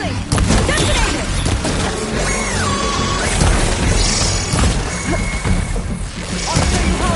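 Glowing crystals detonate in a video game fight, a dense, continuous chaos of crashes, smashes and booms at close range, with voices talking throughout.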